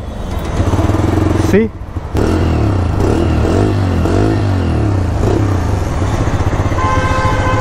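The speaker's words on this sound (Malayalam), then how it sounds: "ഞാൻ ജസ്റ്റ് വണ്ടിയുടെ എക്സോസിനോടൊന്ന് കേൾപ്പിച്ചു തരാം കേട്ടോ." A Bajaj Freedom 125 CNG motorcycle idles at close range, its exhaust giving a loud, steady low thrum with a brief dip partway through, while a person speaks over the engine.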